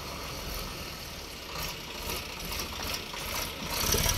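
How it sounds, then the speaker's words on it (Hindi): A tractor engine runs steadily on a farm field before ploughing, a low rumbling idle with a slight rattle, fairly close and growing a little louder toward the end, with no talk over it. "ट्रैक्टर आ गया खेत जोतने के लिए।"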